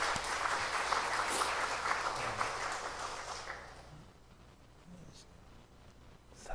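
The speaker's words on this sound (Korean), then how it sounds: "격려의 박수를 좀 한번 해주시면 좋겠습니다." Korean church congregation giving a round of encouraging applause during a Sunday service; the clapping is fairly loud for about three seconds, then dies away into quiet room sound and faint voices.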